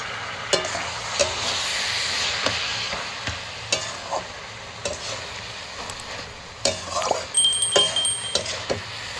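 Fried rohu fish heads sizzling in a pan with ginger paste, a steady close frying hiss broken by repeated scraping and clinking stirs of a utensil against the pan.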